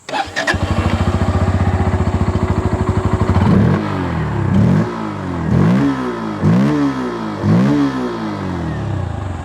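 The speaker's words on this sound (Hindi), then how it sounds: "चलिए एग्जॉस्ट साउंड भी आपको नोट करा ही देता हूँ कि कैसा इसका एग्जॉस्ट साउंड है।" A 2024 Bajaj Pulsar N160 motorcycle with an underbelly exhaust idles with a rapid steady thump, then is revved in five loud, close, aggressive bursts that rise and fall, each blip dropping back to idle.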